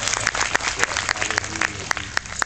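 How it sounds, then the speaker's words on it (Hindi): Church congregation applauding during a sermon, a brisk, fairly loud burst of hand clapping with sharp individual claps running through the whole moment. "चलो एक ताली बजाइए जरा यीशु मसीह के लिए।"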